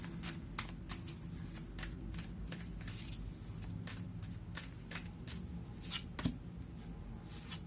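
Tarot cards shuffled and pulled from a deck, a dense run of quick riffling flicks and soft card slaps repeating steadily at close range, with one sharper snap near the end and no talking.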